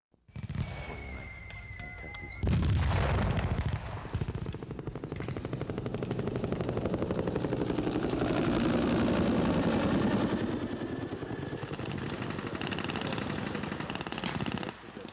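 Heavy gunfire during a militia assault training exercise at a military base, loud and continuous after a sudden start, with engine or aircraft noise mixed in.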